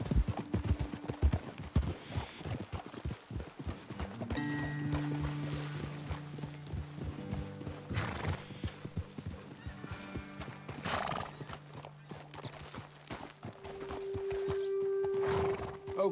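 Video game horse hooves clop in a quick rhythm up close, punctuated by neighing and whinnying, with the clopping slowing and shifting as the horses move.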